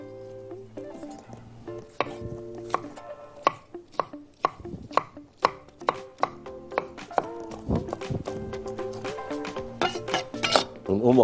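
Knife chopping vegetables for stuffed mahshi, with sharp, uneven strikes on a cutting board at close range over steady background music.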